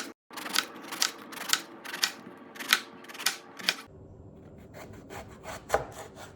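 A knife chops through vegetables on a cutting board in a quick run of sharp, evenly spaced thuds, then lighter, quieter cuts follow, close and alone.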